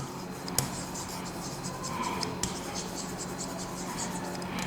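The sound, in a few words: writing down a maths problem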